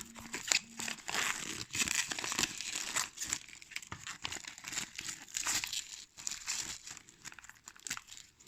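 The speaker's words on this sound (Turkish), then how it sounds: "Şöyle bir kutuyu açalım." Packaging of a Xiaomi LS-P 40m laser meter is opened up close, with quiet crinkling, rustling and tearing of cardboard and wrapping that comes in uneven bursts throughout.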